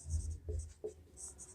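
Pen writing on paper while a Class 9 surface-area maths problem is worked out: quick, faint scratchy strokes in short bursts over about a second and a half.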